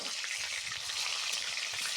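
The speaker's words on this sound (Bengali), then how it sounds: "তাই একে একে মাছগুলো আমি কড়াইয়ের মধ্যে দিয়ে দিচ্ছি।" Fish pieces frying in mustard oil in a wok, a steady, dense sizzle with crackling spatter that holds evenly for the whole stretch, close and fairly loud with no talking.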